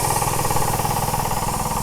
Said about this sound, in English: Instead of using a traditional hammer, they got an air hammer going.